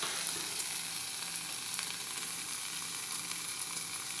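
Lardons frying in a pan without added butter or oil, rendering their fat: a dense, steady high hiss of sizzling with fine crackles, close by and unbroken.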